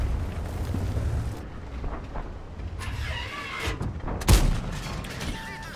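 A tank cannon in a video game fires one booming, cracking shot amid rumbling battle noise and engine drone, with a couple of duller impacts nearby.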